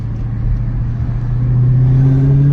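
Inside a 2022 Dodge Challenger Hellcat SRT with a supercharged 6.2L V8, the engine drones loudly and steadily, its pitch rising smoothly as it accelerates with a faint supercharger whine over the deep rumble.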